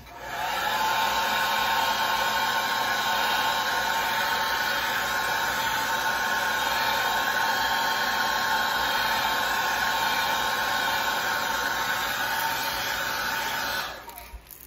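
A heat gun does the final heat set on a StrawCraw craft, blowing a loud, steady, high whooshing hum that starts abruptly, holds evenly for about thirteen seconds, then cuts off.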